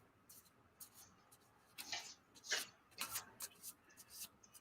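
Tarot cards being shuffled by hand, a series of quiet papery riffles and soft slides in short irregular bursts, close and faint against a hushed room with no talking.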